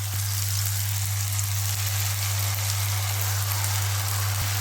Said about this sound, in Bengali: এবার বাটনাটা ঢেলে দেবো